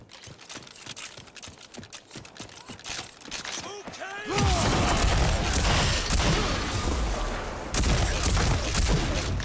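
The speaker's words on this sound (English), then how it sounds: "One big machine gun up there." Rage 2 gameplay, with a heavy machine gun firing a rapid rattling burst that swells into a loud, dense, sustained roar of gunfire and impacts.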